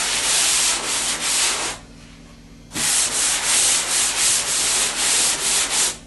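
Hand sanding over a drywall skim coat to knock down small imperfections, a steady close rubbing scrape in several long strokes with a brief pause partway through.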